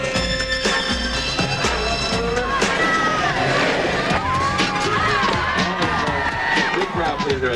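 A large crowd cheers and whoops loudly and continuously at an outdoor skateboarding and BMX demo, with shouting voices layered throughout and no pauses.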